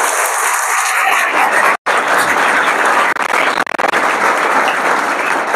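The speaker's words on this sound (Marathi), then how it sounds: "आमच्या सर्वांच्या तात्यांसाठी एकदा जोरात आपण टाळ्या वाजवूया" Crowd applause for a beloved schoolteacher at a school gathering in Beed, a dense, sustained clapping from many hands that fills the clip, with one brief gap near the start and slight dips later.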